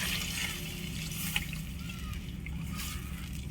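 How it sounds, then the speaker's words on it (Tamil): Fish curry pours steadily into a pot on a wood-fired stove with a soft, continuous trickling and sloshing, close by, with a faint clink partway through. "குழம்பு ஊற்றிடுறேன்."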